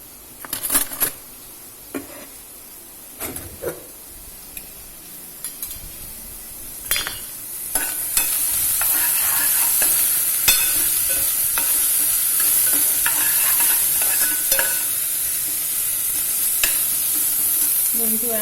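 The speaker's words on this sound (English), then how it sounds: "And we need a spoon to stir this." Spoon clinks and scrapes against a pot of lentil dal with onions, a series of sharp knocks at first, then a steady sizzling hiss from the cooking while stirring continues intermittently.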